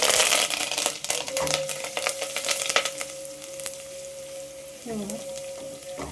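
Curry leaves sizzling in hot oil for a dal tempering with crushed garlic, a dense crackling and popping that is loud at first, then steady and gently spitting, with a faint tone running underneath.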